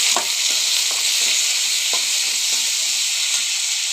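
Tomatoes and brinjal sauté in a pan for chutney, giving off a steady, close hissing sizzle broken by soft, repeated scrapes and taps of a stirring spoon.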